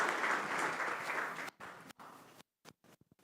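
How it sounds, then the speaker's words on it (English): An audience claps for a speaker named Ryan at an AI meetup, a dense burst of many hands that thins and breaks off into scattered final claps within a few seconds. "Let's give Ryan a big round of applause"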